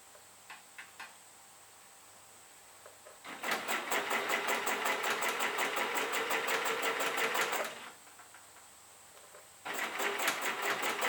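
A sewing machine stitches quarter-inch seams on quilt pieces made from a bunting panel, with a steady rapid run of needle clicks for about four seconds, then a pause and another short burst near the end; faint handling sounds precede it, no talk.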